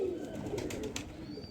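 A strong-bodied pigeon with a bun tail, being handled at a pigeon loft, gives a low, soft cooing call. A steady background hum runs underneath it throughout.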